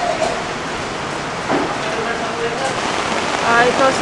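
Strong rushing water pours steadily through a drainage canal after rain, a dense wash of noise like heavy flow through a channel, with faint background sounds.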